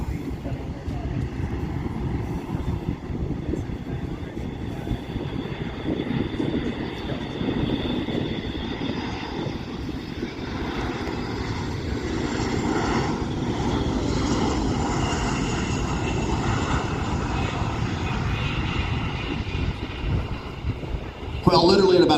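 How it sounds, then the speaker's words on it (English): A C-17 cargo jet makes a low approach and short final at an airshow, its turbofans producing a sustained, loud, broadband roar that holds steady for over twenty seconds while distant crowd or commentary murmurs underneath. "Coming in on a short final now, the C-17 is setting up for its landing."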